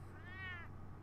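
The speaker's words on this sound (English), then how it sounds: "Oh, cat. Look who's back." A cat in Batman: A Telltale Series gives a single clear meow, rising and then falling, heard alone over a low steady hum.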